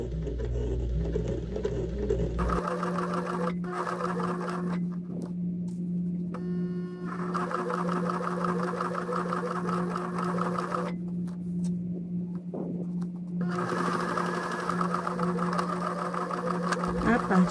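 A sewing machine stitches slowly along a thick seam, its steady motor whir and rhythmic needle running close and loud in long stretches, broken by brief pauses, with a voice talking over it.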